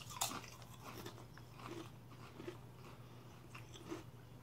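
A barbecue potato chip, bacon and jalapeno flavored, is bitten and chewed up close, with a sharp crunch followed by several softer crunching chews spaced out over a few seconds.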